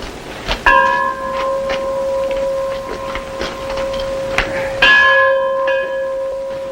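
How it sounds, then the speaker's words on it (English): Mission church bell rings out in repeated clear strikes, each with a long sustained ringing tone, a strong stroke near the start and another near the end, loud and close. "Mighty handsome bell"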